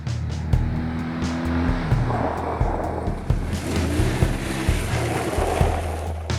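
An off-road motorcycle doing a skid turn with its rear wheel locked, a loud close engine note rising and dropping in pitch alongside rough scraping of dirt and a series of sharp knocks.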